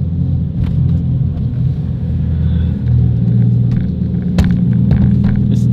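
A deep, loud car engine rumbles steadily nearby in a parking garage, its low drone holding throughout with slight swells like light revving and faint clicks over the top.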